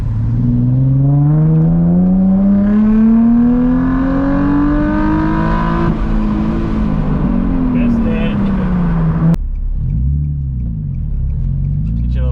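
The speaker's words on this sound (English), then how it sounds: "Acceleration through a tunnel." A Nissan 350Z with a welded differential accelerates up an on-ramp toward a tunnel, its loud engine note climbing steadily through the revs before an abrupt lift or shift near the end, with rumbling road noise underneath.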